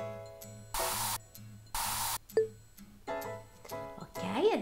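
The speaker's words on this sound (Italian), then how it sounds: "abbiamo uno spray sicuramente disinfettante per la piccola Eli" Two long, loud hissing bursts of disinfectant spray from the Cats and Dogs video game, each about half a second, over light tinkling game music with soft chimes.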